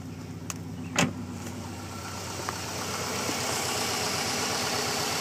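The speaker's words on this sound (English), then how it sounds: "Motor runs smooth." A few clicks and a thump, then a 1995 Subaru Legacy engine starts and settles into a steady, smooth idle nearby.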